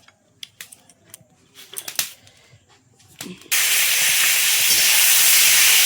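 Live koi fish rubbed with salt and turmeric drop into hot oil in a pan, bursting into a loud, sustained sizzling hiss after a few seconds of scattered clicks and clatter.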